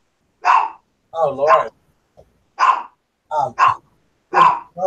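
A dog barks and yips close by in short bursts of one or two, roughly six barks spread over a few seconds, with a person briefly speaking between them.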